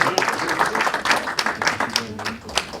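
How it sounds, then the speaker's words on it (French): Audience applause after a presentation, a crowd clapping in uneven bursts close by while voices talk underneath. "On peut applaudir."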